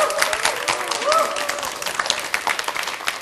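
During a televised lecture on trot and K-pop music, an audience gives a scattered round of clapping. Bright, uneven claps keep going under a faint murmur of voices.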